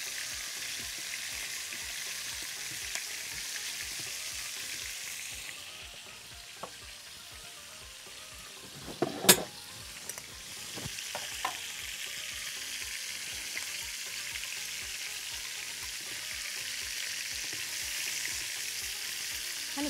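Chicken pieces, cut into eight, fry steadily in hot oil in a pan, giving a continuous close sizzle with a few sharper pops and clinks near the middle as the pieces are moved.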